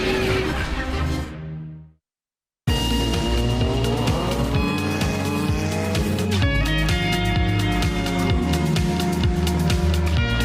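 Historic race cars at the Goodwood Revival, engines firing and revving loudly close by, with a brief silent cut before a dense, continuous roar of several motors blipping and idling together.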